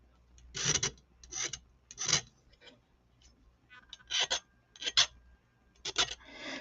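A small needle file rasps in short separate strokes across the edge of a sterling silver feather cuff bracelet, beveling it, each stroke a quiet close scrape with brief pauses between.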